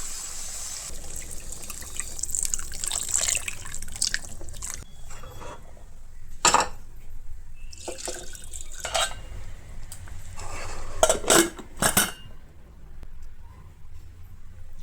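Hot water is poured into a pressure cooker holding mutton and potatoes, a soft continuous trickle with faint metallic clinks and a few sharper knocks of the pot, close and quiet.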